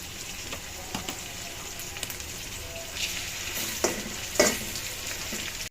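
Garlic paste fries in a pan with a continuous sizzle, broken by occasional sharper crackles and stirring scrapes, close and fairly loud, with no talk.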